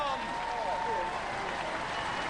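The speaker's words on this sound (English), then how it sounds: "Ladies and gentlemen, give them a round of applause" Audience applause for the Killertron team at a Robot Wars Series 2 final, a steady wash of clapping and crowd noise that holds for the whole stretch, with voices mixed in.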